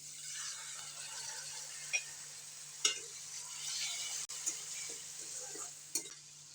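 Water poured into a pan of tomatoes frying in a little oil for a duck curry, giving a steady close sizzle with a few sharp clinks of a spoon or utensil against the pan.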